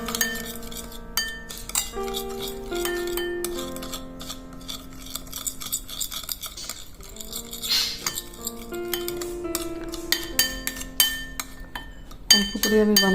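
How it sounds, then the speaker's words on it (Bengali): Spice paste, black pepper, olive oil, salt and lemon juice stirred together in a bowl, giving repeated close clinks and taps of a utensil against glass or crockery over background music. "এটাকে আমি এখন ভালো করে মিক্সড করে নেব।"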